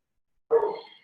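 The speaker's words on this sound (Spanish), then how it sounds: "No sé si es que escuchan mucho al perrito que está ladrando." A small dog gives a single short, nasal bark or yelp after silence, close by and moderately loud, fading quickly.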